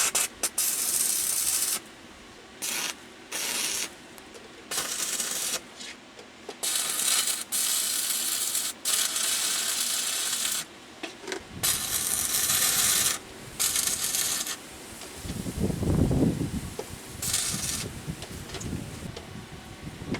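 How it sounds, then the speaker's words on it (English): Adjustment screws being worked on a metal welding jig, with short repeated ratcheting and metallic rasping bursts separated by brief pauses, then a longer grinding, clattering stretch, close and moderately loud. "I'll fix these adjustment screws before we get going any further."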